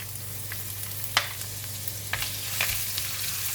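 Ginger sizzles in a pan with tofu and is stirred, giving a steady frying hiss broken by a few sharp scraping taps, with no talking.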